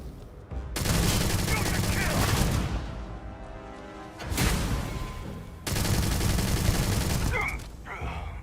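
Bursts of rapid gunfire in the space game Starfield, with two or three sustained volleys separated by short pauses and a voice heard faintly beneath the shooting.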